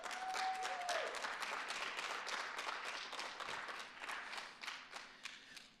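Applause from an audience at a city State of the City event in Gaithersburg, Maryland, dense clapping that gradually thins and fades toward the end into scattered individual claps.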